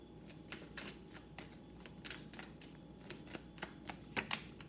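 Tarot cards being shuffled and drawn during a reading, a near continuous soft riffling and flicking of cards at low volume, with no talk over it.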